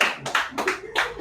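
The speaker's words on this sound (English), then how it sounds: "Clap for him." A few quick hand claps, about three short bursts in a little over a second, close by and moderately loud.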